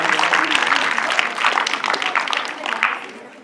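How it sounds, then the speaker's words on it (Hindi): Audience at a youth organization's quiz competition breaks into dense, steady clapping, with voices mixed in, fading toward the end. "इसके बाद पास हाउस, तालियां बजाकर।"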